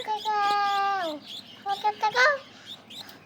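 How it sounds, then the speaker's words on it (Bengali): A drawn-out bird call sounds close and clear, followed by a few shorter chirpy cries, with quiet voices nearby. "ডাকছে কেন ডাকছে কেন পাখিটা"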